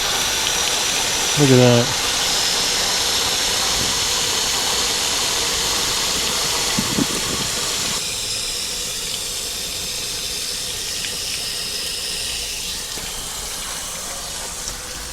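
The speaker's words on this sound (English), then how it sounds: "So it is rinsing the absolute crap out of my frame right now." A BT Off Road chassis flushing kit sprays soapy water up under an overlanding rig's frame, a steady broad hiss of spray running throughout at close range, with someone talking briefly over it.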